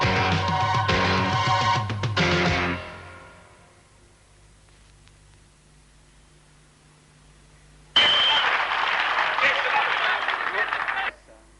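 A crowd of about 18,000 to 20,000 people at the 1987 world sprintcar title event breaks into loud, broad applause lasting about three seconds, after a talking voice and a quiet pause.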